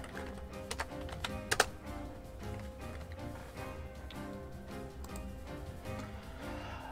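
Keys clatter on a computer keyboard in quick, light bursts, with a few sharper clicks early on and steady, moderately quiet tapping throughout.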